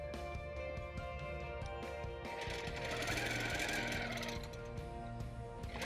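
Sewing machine locking stitches on a quilt border, a continuous close mechanical whir with rapid rhythmic needle thumps and a steady motor hum throughout.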